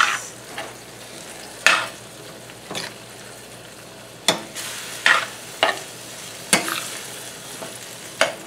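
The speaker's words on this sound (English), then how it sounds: "Mix the onion in." Onion frying in a pan, sizzling steadily while a utensil stirs it in repeated sharp scraping strokes, close and fairly loud, with no talk.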